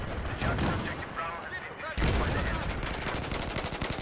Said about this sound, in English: Putting a lot of shots into these guys right now.